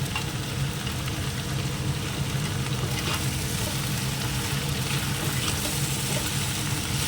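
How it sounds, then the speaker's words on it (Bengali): A large kadai full of potatoes fries with a dense, continuous sizzle and occasional stirring scrapes, loud and close, with no talking. "এবার আলুটাকে ভেজে নিই।"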